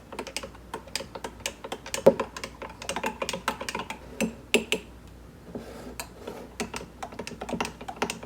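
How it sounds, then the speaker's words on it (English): Meal prep ingredients get a good mix in a bowl, producing rapid, irregular clicking and tapping of a utensil against the bowl, close and continuous throughout. "I'm going to give them a good mix."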